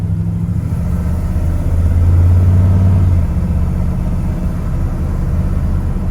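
A lowered 1-ton truck with a long wheelbase drives along, its engine a steady low rumble that swells briefly with throttle before settling back to an even cruise.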